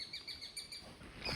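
Birds near their nest in the Green Mountains give a quick series of high, sharp chirps, close and clear over faint outdoor background.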